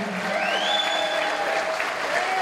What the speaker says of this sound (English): give a big round of applause on that